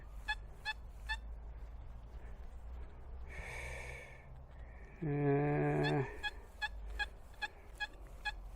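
A steady electronic tone holds for about a second amid outdoor background noise, preceded by a brief hissy burst and surrounded by faint rhythmic clicks.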